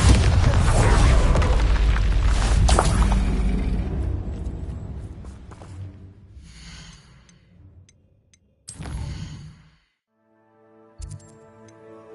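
Bombarda explosion spell cast in Hogwarts Legacy, a heavy booming blast that rumbles and fades over several seconds, followed by a couple of short sharp bursts and a lingering ringing tail.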